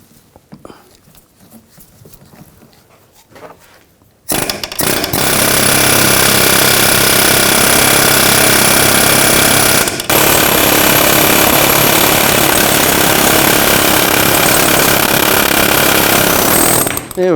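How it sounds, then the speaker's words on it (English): Pneumatic air hammer driving out a front lower ball joint on a 2000-2006 BMW X5: after a quiet start, a loud, continuous rapid hammering runs for over ten seconds with one brief pause. "I'm going to use an air hammer and hammer the ball joint out."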